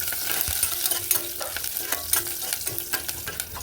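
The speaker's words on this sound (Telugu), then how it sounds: "నూనె వేడెక్కిన తర్వాత ఇది కొంచెం వేగాలండి" Mustard seeds, dried red chillies and curry leaves fry in hot oil with a steady close sizzle, crackling pops and scraping stirs throughout.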